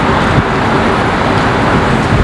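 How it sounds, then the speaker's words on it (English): A Ferrari F50 supercar drives by amid city street traffic, heard as a loud, dense, continuous road and engine roar close by, with no talking. "Ferrari F50."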